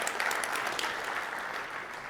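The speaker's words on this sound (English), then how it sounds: "let's get a round of applause for a fantastic day one" A conference keynote audience applauds, dense sustained clapping from a large crowd that fills the room evenly and fades slightly toward the end.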